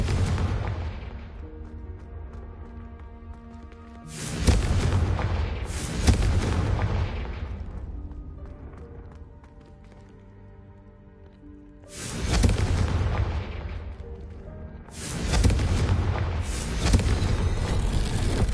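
Fiery Confringo explosive spell blasts in the Hogwarts Legacy video game: several loud booming bursts with rumbling tails, spaced a few seconds apart over a sustained ominous musical drone.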